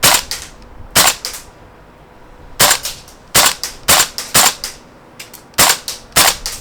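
A Tokyo Marui AKM gas blowback airsoft rifle fires sharp, loud cracking shots, first singly with pauses, then in quick pairs and short bursts, each with a brief clacking recoil tail and no voices.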